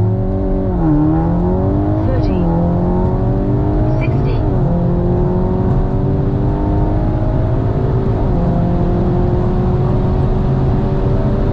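An MQB Audi S3 / VW Golf R with a Stage 1 tune on 93 fuel and a Stage 2 gearbox tune accelerates hard on a drag run. The engine climbs loudly in pitch, drops sharply at each quick gear change and climbs again.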